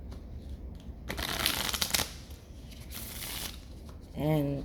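Tarot cards being shuffled close by, with riffling, papery bursts that come in uneven waves, then a short voiced sound near the end.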